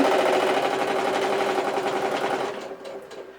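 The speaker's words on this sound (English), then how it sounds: "Sew down this side" A sewing machine stitches down the side of a handmade purse, giving off a steady, rapid mechanical whir close by that runs continuously and then cuts off in the last second.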